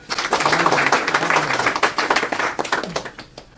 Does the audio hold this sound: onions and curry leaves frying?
no